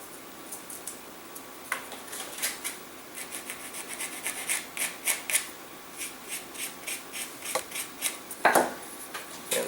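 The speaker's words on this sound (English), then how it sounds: "And just to show you how it's done, I'll carve in a little bit here." A knife shaves and carves a small model glider by hand, giving a series of short scraping strokes at an irregular, quickening rhythm, close and fairly faint, with a sharper scratch near the end and no speech.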